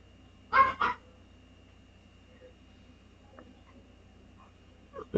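A dog gives two quick, sharp barks close by in a quiet room, with faint small noises afterward and a brief bark or yip at the very end.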